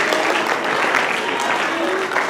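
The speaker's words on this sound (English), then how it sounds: "Give yourselves a hand clap for being brave." Hand clapping from a group at a house meeting rings out steadily for a couple of seconds, dense and fairly close, with scattered voices underneath.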